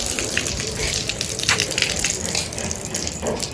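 Water gushes and splashes steadily onto solar panels being washed in summer heat, a continuous close, loud rush with faint voices in the background.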